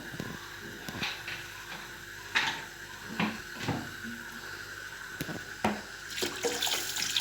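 Water is poured from a bottle into a momo steamer, a light splashing trickle broken by several clanks and knocks of metal cookware, fairly close.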